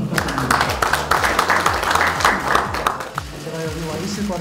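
A crowd applauds at a Korean political party forum, a broad wash of clapping carrying on underneath a voice speaking over it.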